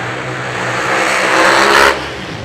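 A drag racing car fitted with a Roche Racing engine revs hard at a drag strip during the Yellow Bullet Nationals. The loud, continuous roar builds steadily, then cuts off sharply near the end and leaves a lower rumble.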